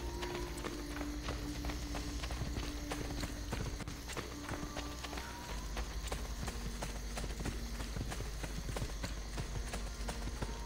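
A horse gallops in the video game Assassin's Creed Brotherhood, with steady, rapid clip-clop hoofbeats running the whole way at close range over a constant low game hum.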